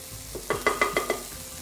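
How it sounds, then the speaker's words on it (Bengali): Garlic tempering in oil, cooked nearly to burning: a brief, close sizzle punctuated by five quick, evenly spaced metallic taps, all over in under two seconds. "এখন এটার মধ্যে একটা খুব সুন্দর গন্ধ আনার জন্য আমরা এটাকে একটু রসুনের বাগার দিব"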